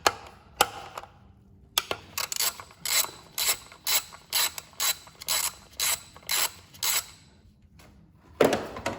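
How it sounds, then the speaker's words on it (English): A ratchet loosens the 10 mm coil pack bolts on an 04-08 Acura TSX, a run of about a dozen rhythmic clicking bursts, close and crisp, separated by short pauses, with no speech. "Just remove the 10 mil bolts that hold the coil packs."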